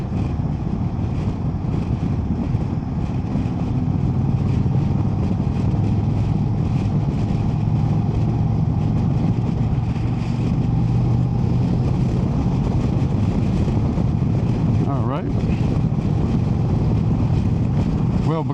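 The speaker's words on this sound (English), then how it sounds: "this is actually just good old wind in my face, or in my helmet's face" Steady, loud wind roar buffets the helmet of a rider on an Indian Sport Chief RT motorcycle with a small fairing, a constant rushing blast with the engine hum running beneath it for the whole stretch.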